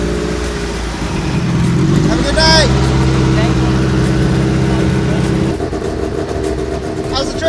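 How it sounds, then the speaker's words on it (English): Cars pull away one after another in the rain during a drag-racing road event, engines droning loudly and rising as each departs, while people exchange brief words close by. "We're going to see some cars leaving here."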